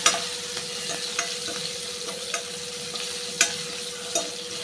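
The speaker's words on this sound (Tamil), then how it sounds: "பச்சை மிளகா இஞ்சியும் கட் பண்ணி வச்சுருக்கேன் அதை போட்டுக்கிறேன்" Green chilli and ginger frying in sesame oil, a steady close sizzle broken by several distinct spatula clinks and scrapes against the pan, no talk.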